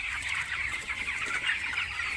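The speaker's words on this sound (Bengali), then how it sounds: "মুরগিগুলো দেখেন কত সুন্দর হয়েছে" Nineteen-day-old poultry broiler chickens in a farm shed, a dense continuous chorus of overlapping clucks and peeps from many birds, steady and fairly loud with no talking.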